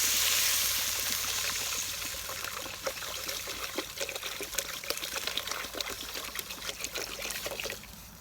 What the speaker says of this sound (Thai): กระดูกหมูใส่ละใส่น้ำเลยเจ้า